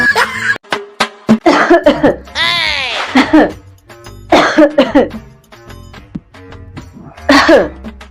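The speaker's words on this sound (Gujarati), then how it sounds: "કેટલા દિવસ થયા ઉધરસ ખાસો" A person coughing in a comic scene, several harsh bursts and throat clearing in quick succession, loud and close, mixed in with lively talk.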